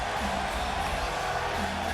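A wrestling arena crowd in WWE 2K17 roars in a continuous, dense wash of cheering and whooping, loud and steady from start to finish.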